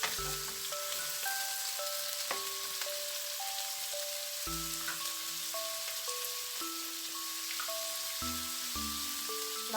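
Squid being sautéed for adobo in a pan, a steady close sizzle and crackle running the whole time with music playing over it and no one talking.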